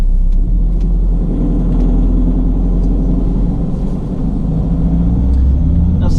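A 2013 Ford Transit caged tipper truck with tail lift drives on a road test, giving a steady, loud low engine rumble and road drone throughout, with no speech.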